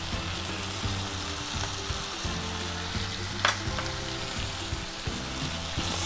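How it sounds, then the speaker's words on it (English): Kadai paneer with kasuri methi, garam masala and chopped coriander being stirred in a frying pan, a steady broadband sizzle with a sharp scrape of the spoon midway and no talking. "Stir it again."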